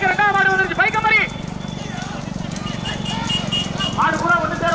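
Racing bulls pull carts in a rural bullock cart race, their hooves pounding steadily beneath a low rumble while a commentator's loud voice calls over the action.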